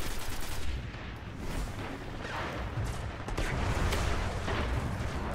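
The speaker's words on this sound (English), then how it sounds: "Why are you shooting at me with a shotgun, buddy?" Shotgun fire in the video game Destiny sounds as dense, overlapping blasts and booms of a busy firefight, loud and continuous with no clear gaps.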